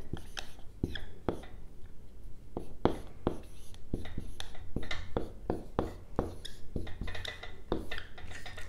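Chalk or marker taps and strokes on a board during a calculus lecture come as a series of sharp clicks and short scratchy strokes in an irregular rhythm, close and fairly faint.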